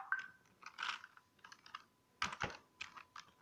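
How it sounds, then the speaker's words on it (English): Web address typed on a laptop keyboard, a quick run of close, crisp key clicks in short uneven bursts, with no one talking. "So you just type web"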